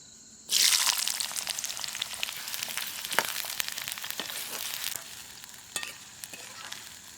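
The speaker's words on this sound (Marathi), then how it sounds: "तेल गरम झालं कांदा घेतो टाकून" Sliced onion drops into hot oil in a village kitchen and erupts into a loud, steady sizzle that holds for several seconds, with a few soft clinks of a utensil against the pan.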